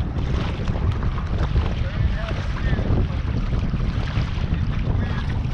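Steady wind buffeting the microphone on a canoe on Pine View Reservoir, a constant broadband rush with low rumble like open water; faint voices may sit under it.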